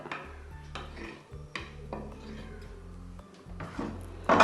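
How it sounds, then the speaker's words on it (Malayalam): A spoon stirs wheat and yeast inside a jar for homemade grape wine, giving irregular scraping and knocking strokes at close range, with a louder clatter at the end. "ഇളക്കുന്ന കഴിവതും ഒരു വശത്തോട്ട് തന്നെ ഇളക്കാം"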